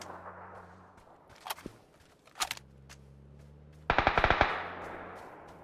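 Gunfire in the PUBG: Battlegrounds video game, with a couple of distant single shots followed by a quick burst of several sharp automatic shots, over a low steady hum.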